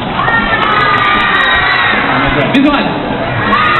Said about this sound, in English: I want to hear some scream, come on.